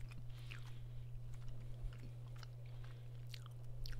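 Close, moist chewing of food right by the microphone, with soft crunchy bites and smacks spread across the moment over a steady low electrical hum.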